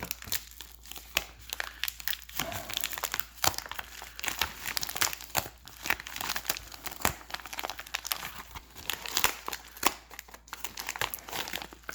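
A colored paper envelope is handled up close, giving quiet, irregular crinkling and rustling with occasional sharper crackles throughout.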